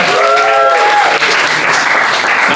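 A loud, continuous burst of studio-audience applause for a performer named Ethan, with a brief whistle-like cheer rising over the clapping at the start.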